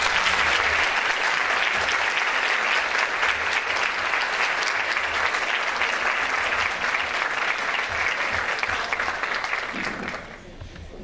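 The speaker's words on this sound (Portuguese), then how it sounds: "Uma salva de palmas." Sustained applause from a parish audience welcoming a priest to a talk, dense steady clapping of many hands for about ten seconds before it quickly fades out, with some crowd voices mixed in.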